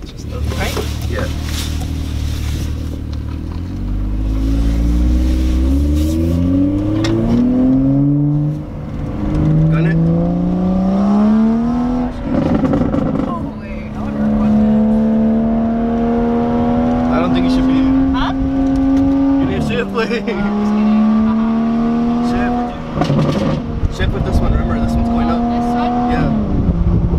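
A tuned BMW F32 435i with the N55 engine pulls hard at full throttle, its engine note climbing steadily through several gear changes, loud and close from inside the car, with people talking and reacting throughout.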